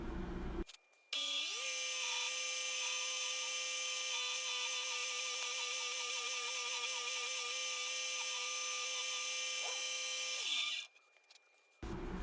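An HDPE plastic trash can spins on a woodturning lathe while its bottom is cut down to size, giving a steady, loud, high motor whine with a tonal hum that starts abruptly, holds for about ten seconds, then stops.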